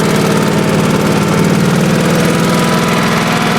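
A 1986 Honda HT3810 lawn tractor engine runs steadily in first gear, a loud, close, constant rumbling drone with an even buzzing pulse.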